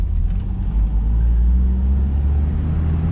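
A stock 1979 Mustang Coupe with the 2.3-liter four-cylinder rolls along, heard from inside as a continuous low engine and road rumble with a slight swell early on.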